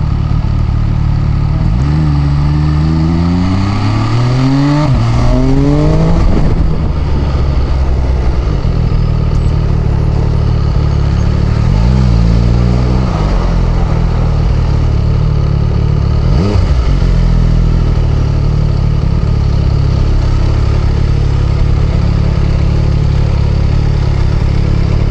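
An MV Agusta Brutale Dragster 800 RR motorcycle on a test ride, its engine revving up through rising pitch sweeps several times, then settling into a steady throbbing drone under constant wind rush, loud and close throughout.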